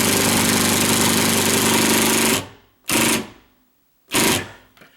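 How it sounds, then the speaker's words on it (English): Impact drill driving a drywall anchor into a wood stud, a loud continuous rattling hammer-whir for over two seconds, then two short, sharp bursts separated by silence, no talking. "This is called an impact drill,"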